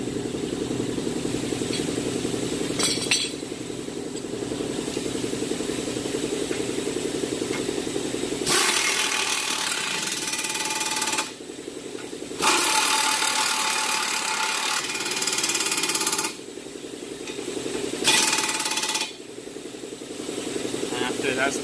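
Power tool tightening 21 mm brake bracket bolts on a Dodge Challenger during a front brake job, several loud bursts of whirring between pauses, with some talk around them.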